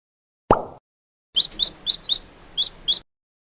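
Cartoon chicken sound from a kids' farm-animal puzzle game: a single sharp pop, then a quick run of six bright, clipped clucks at an even pace, loud and close with nothing else behind.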